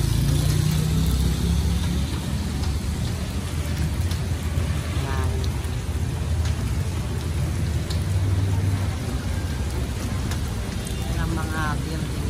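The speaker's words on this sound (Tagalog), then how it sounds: "Dito, papatila muna kami ng ulan." Steady hiss of heavy rain pours continuously on a street in Zamboanga City, Philippines, with a low rumble and occasional traffic underneath.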